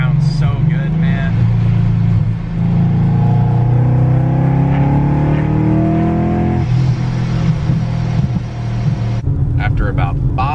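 A car fitted with drag radials is driven after a track day, its engine roaring loud and close with a heavy low drone and rising and falling revs. A voice talks over it partway through.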